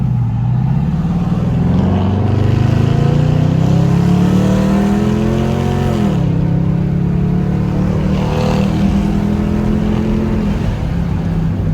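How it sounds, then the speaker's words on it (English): A straight-piped Hemi V8 in a 2021 Dodge Durango R/T roars at wide open throttle on the highway, loud and deep, its pitch climbing through the gears with brief dips at each shift, over steady road and wind noise. "That's how a Hemi's supposed to sound."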